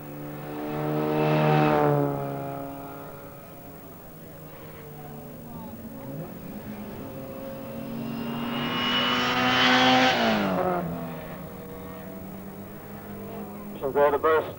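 Mini 7 race cars circle the Lydden circuit, their engines swelling as they pass fairly close and then fading, with a commentator talking over the racing.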